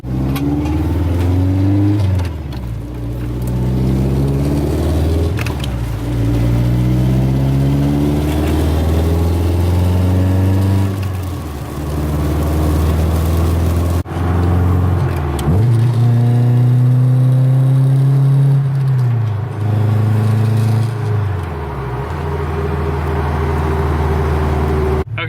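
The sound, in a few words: car engine idling after repair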